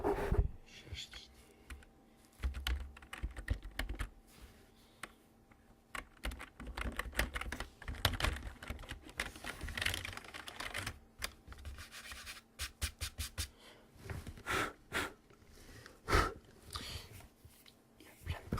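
Close-up typing on a dusty computer keyboard, irregular bursts of soft clicks and taps with pauses between, quiet and intimate, with faint whispering in places.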